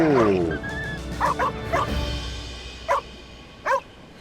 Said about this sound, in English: What a good dog he is.